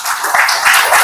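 Audience applause at a school parents' orientation and lab inauguration in Ghazipur: a dense, steady wash of clapping that stays loud and even for the full second.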